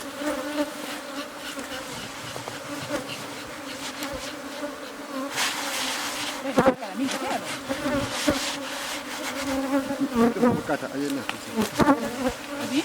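Bees buzz densely around an open honey hive in a village, a close, continuous drone with fluctuating pitch as individual insects pass near, joined by a few faint rubbing and handling noises.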